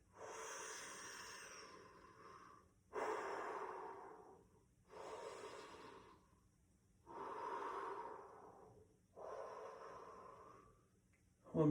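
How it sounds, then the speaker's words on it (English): Slow, deep breaths during an arm-raising stretch: five long, close, airy inhales and exhales, each a few seconds long with short pauses between, ending on a sharp puff. "Arms straight up as you deep breathe."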